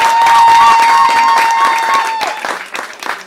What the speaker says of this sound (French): Applaudissez encore pour